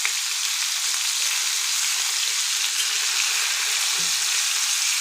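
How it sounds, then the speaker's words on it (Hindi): Chicken boti pieces fry on a hot tawa in dhaba style, giving a steady, loud, close sizzle that holds constant throughout with no talking. "अब इसको तकरीबन एक तरफ से हमने 5 मिनट तक या गोल्डन होने तक फ्राई करना है।"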